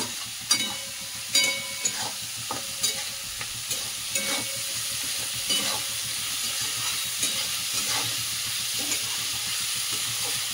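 Capsicum and onion fry in a pan for chilli chicken, a steady close sizzle with spatula scrapes and clacks against the metal, busier at first and then settling into a continuous hiss.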